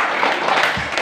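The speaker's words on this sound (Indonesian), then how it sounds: "boleh tepuk tangan buat Gani." A short burst of applause from a group of elementary schoolchildren during a school visit to a digital reading corner, dense and fairly loud clapping lasting about a second.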